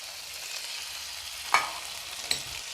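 Shallots sizzling in oil in a pan for a beef dish, a steady soft frying hiss with two brief sharper crackles or stirring clicks, close and alone.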